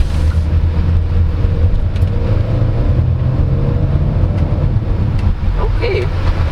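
A 2024 Hyundai Custin GLS Premium, around 170 horsepower, pulling hard in sport mode, its engine a steady loud drone heard from inside the cabin.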